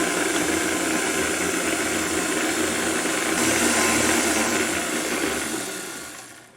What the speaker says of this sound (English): now I'm all done with using the mixer